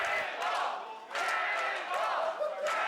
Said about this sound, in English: You can see the PPW Nation at ringside there getting Cannonball Kelly all fired up, clapping along, cheering him on